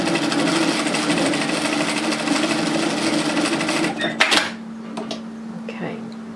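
A sewing machine runs steadily for about four seconds while stitching binding onto a dress, a close rapid mechanical whir, then stops with clicks and light handling noises as fabric is moved.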